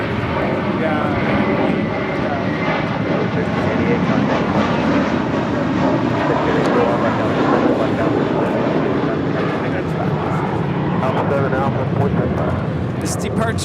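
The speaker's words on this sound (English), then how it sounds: "This departure is JetBlue Airways 1388 departing to Boston on an A321." A JetBlue Airways A321 airliner departs LAX with a loud, continuous broadband engine roar that holds steady throughout.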